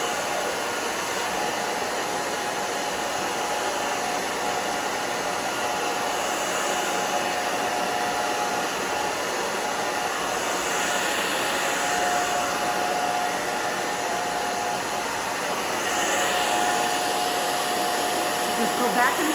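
A hair dryer blowing a client's thin bob hair dry at a salon, a loud continuous whooshing roar holding steady close by throughout, with no talking.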